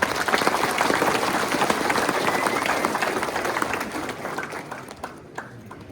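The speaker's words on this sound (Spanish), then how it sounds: "pido un fuerte aplauso" A crowd applauds at a municipal president handover ceremony in San Juan Mixtepec, Oaxaca, with steady dense clapping that holds loud throughout and thins slightly toward the end, a few voices mixed in.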